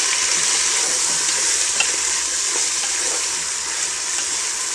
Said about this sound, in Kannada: ತರಕಾರಿನ ಹಾಕ್ಕೊಂಡ್ಮೇಲೆ ಒಂದ್ಸರಿ ಚೆನ್ನಾಗಿ ಮಿಕ್ಸ್ ಮಾಡ್ಕೊಳ್ಳಿ